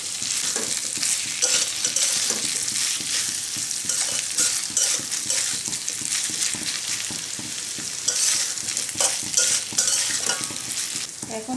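Shrimp and potatoes in a poppy seed curry are stirred and fried in a pan, a steady close sizzle with scraping and shuffling spoon strokes running throughout.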